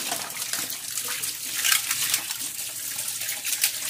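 Kitchen tap running while a spoon is rinsed during dishwashing: a steady, close hiss of flowing water with uneven splashes as it hits the hand and utensil.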